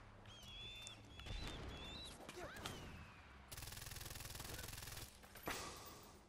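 Gunfire in the video game Far Cry 4, with rapid machine-gun bursts and scattered shots, including a long steady automatic burst midway, heard faintly under game noise and voices.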